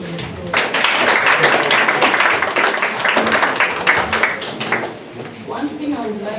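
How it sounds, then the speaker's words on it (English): An audience gives applause to the panelists at an international school event, with many hands clapping steadily for several seconds before fading out near the end. "Can we give them a round of applause?"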